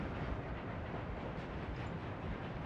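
Steady rumbling roar of rolling freight train cars, with open-hull and covered-hull wagons in a video game, a dense continuous noise at moderate level with no talk.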